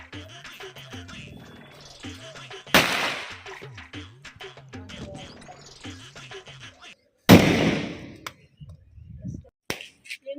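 Diwali firecrackers burst in a few sharp loud cracks amid a family celebration, separated by quieter stretches with background voices and clatter.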